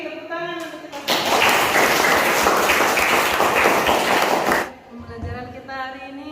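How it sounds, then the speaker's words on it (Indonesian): A classroom of high school students in an economics lesson bursts into clapping after a pause, a dense flurry of hands lasting about three and a half seconds before it stops abruptly and a voice speaks again. "Tepuk tangan untuk kita semua."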